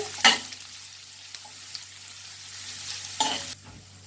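Large onions sauté in a pan under a quiet, steady sizzle, while a spoon scrapes and stirs in a few brief bursts, near and fairly soft.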